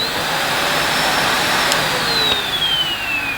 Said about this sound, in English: So if I turn the cleaner on now,